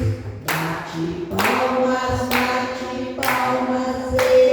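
Rhythmic hand claps from a church congregation at worship, roughly one crisp clap per second, sounding together with ongoing singing.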